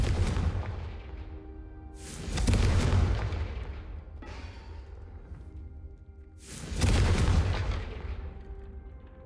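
Confringo fire spells going off in the video game Hogwarts Legacy, two heavy booming blasts several seconds apart, each swelling and then rumbling away, with a fainter thud between them.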